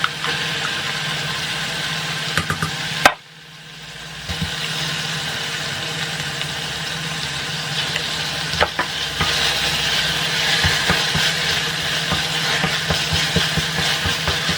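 Whole garlic cloves and onions fry in oil in a pan for an Indian meal, a steady close sizzle with occasional stirring clatter and one brief sharp knock early on.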